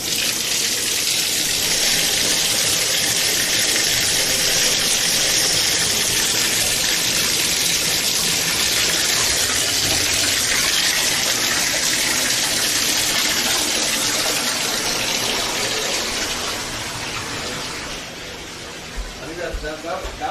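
Water rushes and gushes steadily in a loud, continuous stream, easing off slightly near the end.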